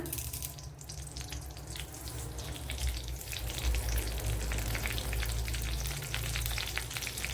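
Curry leaves crackle and sizzle in hot coconut oil already used for frying onions, a busy, steady frying hiss with some spattering, close and fairly quiet, no voices.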